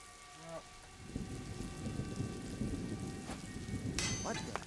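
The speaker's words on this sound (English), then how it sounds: "It was a droplet of rain." Rain and thunder in the video game A Plague Tale: Innocence: a steady patter of rain with low rumbling, a faint ding and a sharp crack near the end.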